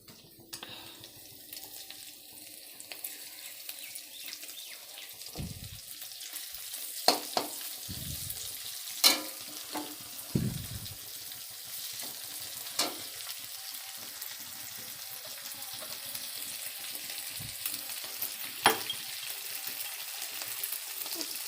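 Onion frying in oil in a home kitchen, a steady soft sizzle running throughout with a few sharper pops and occasional clinks of a utensil against the pan, fairly close and no voices.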